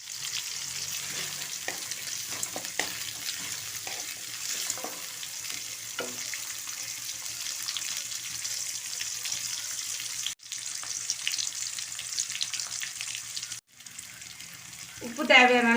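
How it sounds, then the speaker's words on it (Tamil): Onions sizzling steadily in hot oil with mustard seeds and chana dal for coriander rice, a continuous frying hiss with occasional stirring clatter, brief pauses and a closing clink of utensils. "பெரிய வெங்காயத்தை சேர்த்து நல்லா வணக்கி"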